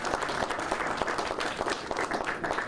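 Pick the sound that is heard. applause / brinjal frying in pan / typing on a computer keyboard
applause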